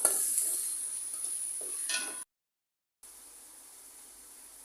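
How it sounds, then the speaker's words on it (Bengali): Garlic and ginger paste sizzles and fries in a pan with soft stirring scrapes, close and moderately quiet, then drops out briefly before a fainter sizzle resumes. "রসুন বাটা দিব এক টেবিল চামচ আদা বাটা এক টেবিল চামচ একটু ভেজে নিব তিরিশ সেকেন্ডের মতো"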